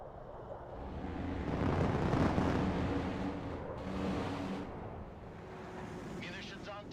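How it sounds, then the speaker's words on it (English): Close air support strike explosions in the Broken Arrow video game roll out as deep, rumbling booms that swell and fade over several seconds, with a second lighter blast following and a brief radio-style voice near the end. "Munitions on target. Nice firework."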